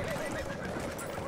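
A horse in a video game gives a loud, close whinny that rises and falls over about a second, heard amid steady game noise during a shooter match.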